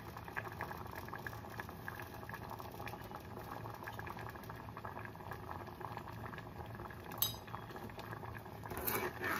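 Tomato dal bubbles in a pot with a steady, faint simmering crackle, joined near the end by a couple of light metallic clinks of utensils.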